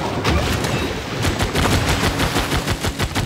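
Rapid crackling volleys of unit gunfire echo through a battle in the strategy game Civilization VI, dense and continuous at high volume with no voices over it.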